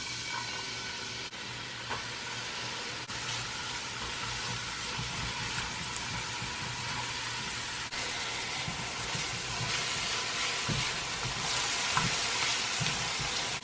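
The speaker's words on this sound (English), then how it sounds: "to saute my onions" Onions sauteing in olive oil for a Jamaican vegetable rundown, a continuous dense sizzle and crackle of frying that stays steady throughout, with occasional faint stirring clicks.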